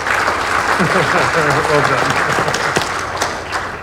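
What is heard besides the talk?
audience applause for panel participants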